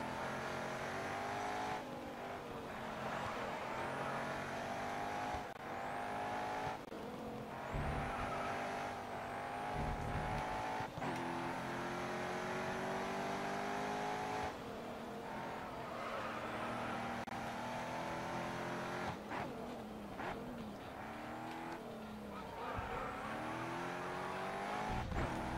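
An all-wheel-drive race car in GRID Autosport, its engine note rising and dropping through constant gear changes, with brief tire squeal, loud and continuous throughout.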